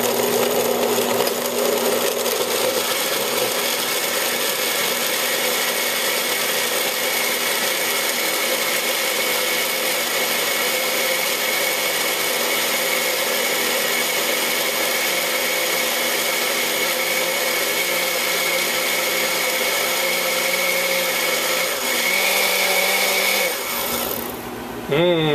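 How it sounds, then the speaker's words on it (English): An old kitchen blender whirs steadily for over twenty seconds while preparing Mexican-style soup, a loud continuous motor drone that cuts off abruptly near the end. "And into the old blender."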